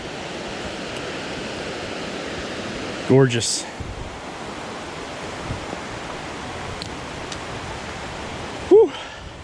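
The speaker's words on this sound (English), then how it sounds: "beautiful river right here next to" A river runs beside a hiking trail in the Great Smoky Mountains, giving a steady broadband rush throughout, with a brief spoken remark and breath over it.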